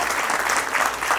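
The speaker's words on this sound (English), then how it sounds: "big round of applause for all the panelists" Applause for the panelists at a medicolegal conference, a brief burst of loud, dense clapping from a seated audience, steady throughout.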